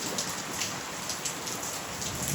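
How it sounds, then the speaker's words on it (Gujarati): Heavy summer rain falls in strong wind as a dense, steady, loud hiss of drops with no pauses and no voices. "જોરદાર મજાનો વરસાદ અહીંયા પડી રહ્યો છે."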